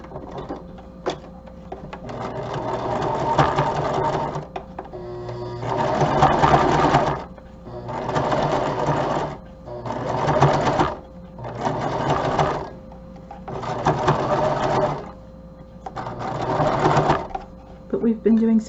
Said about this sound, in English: this is the pretty vintage doily that I'm gonna stitch right down the middle to cover up that seam